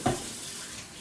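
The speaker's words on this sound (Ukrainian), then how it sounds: "Просто водою зливаю." Tap water runs to rinse a surface clean, a brief knock at the start followed by a steady, soft splashing hiss, with no talking.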